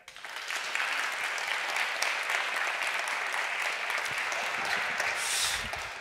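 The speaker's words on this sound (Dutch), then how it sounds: "Mag ik een applaus voor Birgit Meijer?" An audience at a lecture on religion applauds a speaker being introduced, with a full, even burst of clapping that rises quickly, holds steady for several seconds and tapers at the end.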